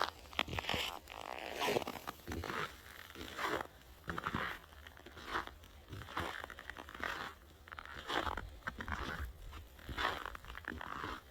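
Icy cold snow at minus 19 in an Alberta winter crunches under a steady series of rhythmic, crisp compressions, like walking steps, close and fairly quiet, with no talking.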